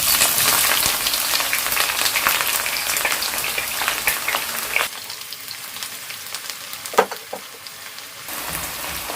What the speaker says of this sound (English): So I want to start frying the onion.